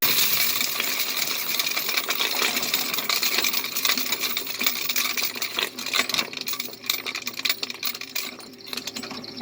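A coin counting machine processes a load of coins, a dense continuous metallic rattling and clinking that runs steadily for the whole stretch, loud and close, with no talk.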